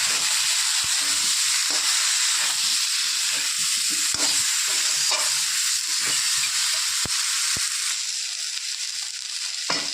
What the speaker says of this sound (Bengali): একসাথে সব মশলা দিয়ে কষিয়ে দেবো।